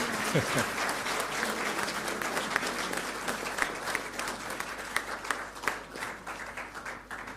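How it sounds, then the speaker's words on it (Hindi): Steady audience applause at a formal Indian military event in New Delhi, a dense wash of many hands clapping throughout with a few sharper individual claps, moderately distant and sustained without pause. "ताली बजाने में कंजूसी मत करिए"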